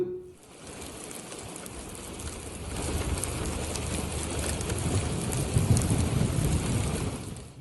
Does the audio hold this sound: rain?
yes